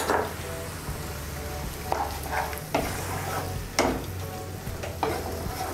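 A radish curry stirred with added water in a pan, giving a constant sizzle with rhythmic scraping strokes of the spoon every second or so, close and clear.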